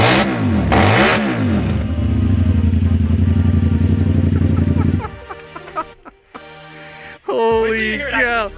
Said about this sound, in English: the way it revs and stuff, it sounds fully like a monster truck